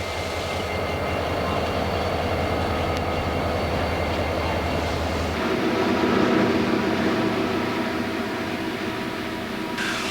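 A Clinchfield freight train rumbles past continuously in 1991 between Erwin, Tennessee and Spartanburg, steady wheel and carriage noise with a deep low drone that shifts partway through, loud and close throughout.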